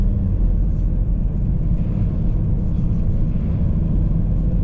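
A car drives along a rural road near a waterfall, giving a continuous low rumbling engine and road noise that stays steady and fairly loud throughout.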